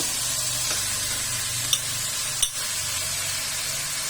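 Cabbage frying in a hot pan gives a loud, steady, close hiss of sizzle, with two brief clicks of a utensil against the pan.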